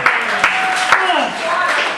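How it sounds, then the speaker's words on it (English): A comedy club crowd in New York City breaks into applause for a comedian, a dense steady wash of clapping with cheering voices mixed in, holding loud for the full two seconds. "how about a round of applause for Joe Pontillo?"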